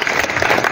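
An audience at a Sant Ravidas Maharaj jayanti celebration breaks into applause, a brief, loud, even patter of many hands clapping close by with no voices on top.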